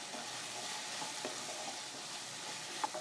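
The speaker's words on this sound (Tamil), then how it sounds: "எல்லா காயும் சேர்த்துட்டு நல்லா கலந்து விட்டுக்கலாம்" Beans, carrot, potato and cauliflower stirred in a pan for poha biryani, a soft continuous sizzle with occasional faint scrapes and clinks of the spoon.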